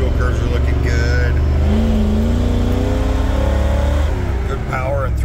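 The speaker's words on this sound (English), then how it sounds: "Lauren, I thought I'd send you a video of your harness and ECU running" A fuel-injected 460 V8 on a stand-alone ECU runs steadily with a loud, deep, continuous rumble and slight throttle variations, while a voice talks over it throughout.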